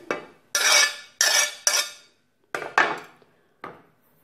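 Chopped tomato salad with green chilli being mixed: about seven distinct scraping strokes of a spoon through the wet salad in a bowl, close and fairly loud, separated by short pauses.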